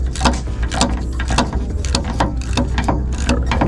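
A ratchet works at the piston bolts of a 1981 International 1754 dump truck, giving loud, close, rhythmic clicking strokes in quick repeated bursts.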